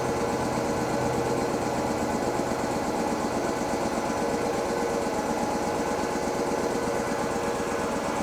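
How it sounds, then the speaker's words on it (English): Mini Mac 400 machine running during cool-down with its burner on to keep the hot oil pump circulating, a steady, even engine-like drone with a fine rapid pulsing, constant and fairly close, no talking. "We leave our burner on, because that keeps our hot oil pump running, helps everything get cooled down."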